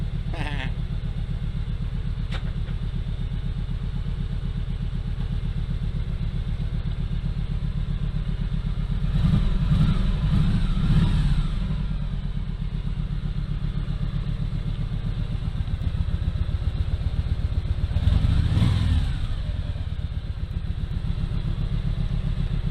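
A motorcycle with a rocker shifter runs steadily with its rear wheel spinning, producing a continuous low mechanical drone and hum, with two brief louder surges partway through and no talking.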